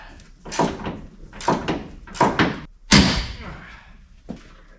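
Old 1995-2004 Toyota Tacoma door with squeaky hinges being worked open and shut, giving several creaking, clunking bursts close by and a louder thump near the end.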